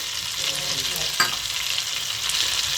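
Cumin seeds sizzle in melted butter and hot oil with a steady close hiss and faint crackle, plus a single sharper tick partway through.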